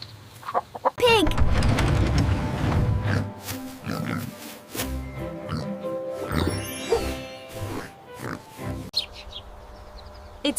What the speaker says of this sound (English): Pig.